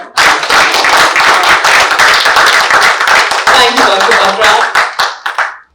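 Loud, sustained audience clapping at a stage event with Dr. Batra, steady and dense throughout, while a voice speaks over it briefly.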